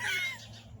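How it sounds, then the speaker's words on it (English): A crow caws once outdoors, a short hoarse call fading quickly over faint background hum. "Now the birds are coming out."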